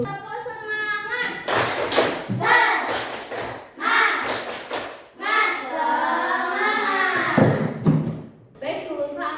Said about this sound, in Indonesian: mari kita tepuk semangat dulu. Tepuk semangat.